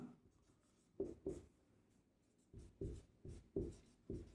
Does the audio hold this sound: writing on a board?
yes